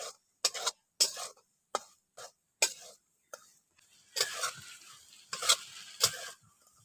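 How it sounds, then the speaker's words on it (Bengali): Dry semolina stirred and roasted in a pan for a sweet, giving short, irregular bursts of close scraping and rustling separated by brief pauses. "সুজিটাকে নাড়াচাড়া করে একটু ভেজে নিচ্ছি।"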